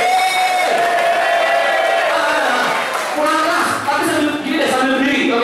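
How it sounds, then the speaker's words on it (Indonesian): A sales and marketing training audience erupts in loud clapping mixed with whoops and shouted cheers, a dense, energetic roar of voices and hands that dips briefly before surging again. "Kalau Anda tepuk tangan yang keras sambil kasih suara, saya kasih penawaran spesial."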